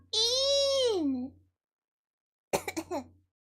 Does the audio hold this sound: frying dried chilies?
no